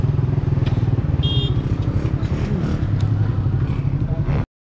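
A motorcycle engine runs close by with a loud, steady low rumble and some rattling clatter, then cuts off abruptly.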